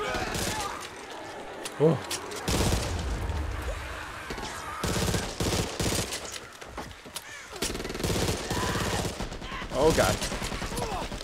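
Bursts of pistol fire from a Back 4 Blood zombie-shooter match, sharp cracks scattered irregularly through the span over a dense, noisy game mix of crashes and chaos, with a player's brief exclamations.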